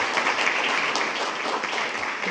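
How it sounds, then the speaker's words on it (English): A roomful of people gives a steady round of applause at a board meeting honoring employees, dense, even clapping filling the whole stretch at moderate loudness. "maybe one last round of applause for everybody honored tonight"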